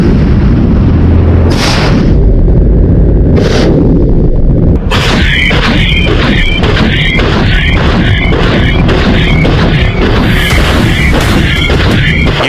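Russian robotic combat vehicles fire during a military exercise. Two separate loud booms come first, then a rapid, regular burst of repeated shots rings out at close range.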